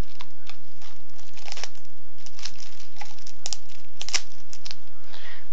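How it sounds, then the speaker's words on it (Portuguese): Plastic packaging crinkling and tearing during an unboxing of a new game, a series of sharp, close crackles and rips in irregular bursts, with no talking. "Plástico chato. Sai, plástico."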